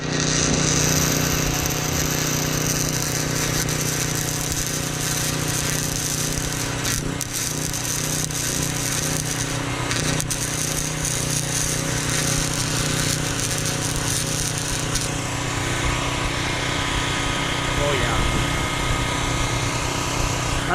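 A generator running beside welding work on a car roll cage, a loud, steady, rough engine drone with buzzing and crackling on top, close by and unbroken for the whole stretch, with no voices.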